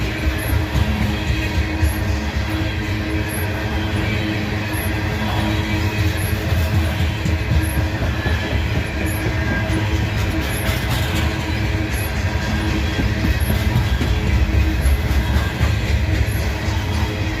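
A Norfolk Southern freight train rumbles past close by, a steady broad roar with low-frequency drone and faint rhythmic clicks from the wheels, sustained evenly throughout without pause.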